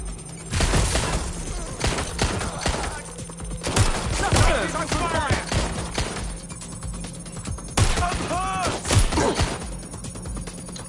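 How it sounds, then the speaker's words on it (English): Gunfire in the video game Watch Dogs: Legion, with bursts of shots and impacts scattered across a busy game mix, loud and near, alongside voices talking. "I'm taking fire!"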